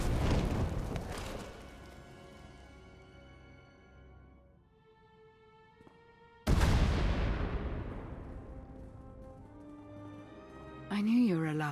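Two heavy booming explosions in Star Wars: The Old Republic, Knights of the Eternal Throne, each a sudden deep blast trailing into a long rumbling decay, set against sustained tonal music with a sharp electronic effect near the end.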